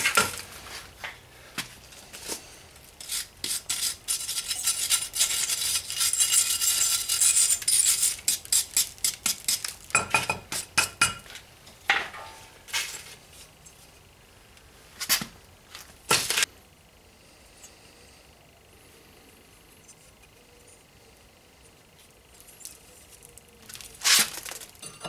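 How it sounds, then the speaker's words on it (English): A brake part from an Opel Corsa D is scrubbed and wiped during a brake disc job, with bursts of rapid scraping and rubbing that bunch up early, then sparse scrapes, light metallic clinks and quieter gaps. "Also we will clean it a little bit."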